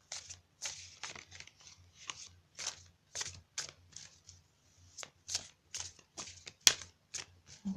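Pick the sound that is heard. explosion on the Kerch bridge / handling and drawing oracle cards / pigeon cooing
handling and drawing oracle cards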